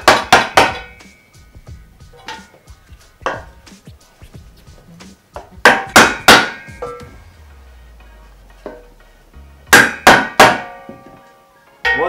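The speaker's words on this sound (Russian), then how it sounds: "Ставим дощечку и забиваем." A bearing is hammered into a BMX wheel hub through a wooden board, giving loud, close, sharp knocks in quick clusters of two to four strikes, separated by short pauses.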